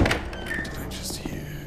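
A metal door in the stealth game Thief: Deadly Shadows gives a heavy thunk followed by scraping, creaking movement and a few lighter knocks, fairly close and loud.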